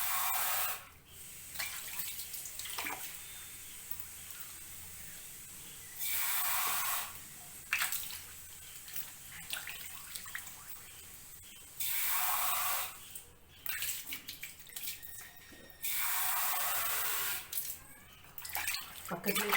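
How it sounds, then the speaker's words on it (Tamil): Tap water runs in several bursts, splashing and rushing over a stone grinding slab (ammi) at a kitchen sink, with quieter scrubbing pauses between the flows and a voice speaking in the gaps. "ஸோ டேப்பில் இருந்து அப்படியே தண்ணி எடுத்து கழுவிக்குவேன்."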